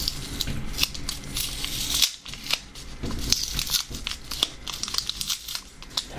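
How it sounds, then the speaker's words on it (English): The crinkly wrapper of a Mexican-style chocolate bar with almonds is pulled open up close, with dense crackling and rustling of packaging, brief tearing bursts and a short pause partway through. "I'm most excited first to try out this Mexican-style chocolate with almonds, so let's break into this"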